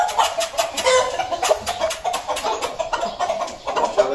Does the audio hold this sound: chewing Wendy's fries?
no